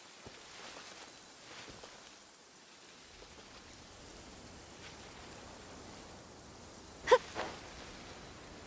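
Steady, soft rain hisses across a Genshin Impact game world, faint and even throughout, with one sharp brief burst of sound near the end.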